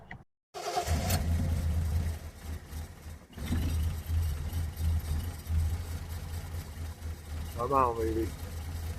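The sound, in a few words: 1974 Triumph TR6 engine idling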